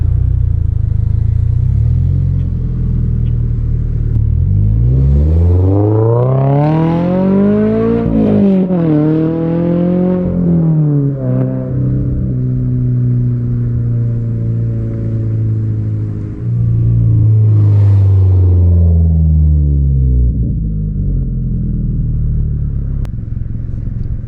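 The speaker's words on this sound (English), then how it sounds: "exhaust clip from the outside" A 2022 Subaru BRZ fitted with a MAPerformance aftermarket exhaust, recorded from outside the car, revs loudly through several sweeping climbs and drops in pitch before settling into a steady, droning idle-high hold and a final rising rev.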